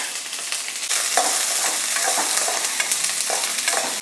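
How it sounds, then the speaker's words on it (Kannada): Star anise and about eight cloves dry-roasting in a pan, a steady close crackle and hiss with light scraping as the spices are stirred, continuous and fairly loud with no talking. "ಎಲ್ಲ ಹಸಿ ವಾಸನೆ ಹೋಗೋವರೆಗೂ ಚೆನ್ನಾಗೆ ಫ್ರೈ ಮಾಡ್ಕೋಬೇಕು"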